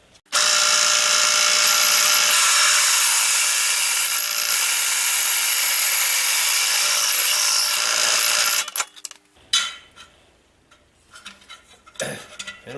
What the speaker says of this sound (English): I built a different fixture for hole sawing, so I could do these side notches